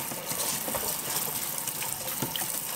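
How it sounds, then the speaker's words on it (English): Russet potatoes are washed and scrubbed under a running tap, with a steady loud gush of water and rubbing splashes close by throughout. "First thing you wanna do is wash your potatoes and scrub them if necessary."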